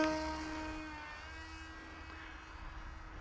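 A Volantex Ranger 2400 RC plane flies with its landing gear off, its steady electric motor whine drifting and gradually fading as it moves away, faint and alone without talk.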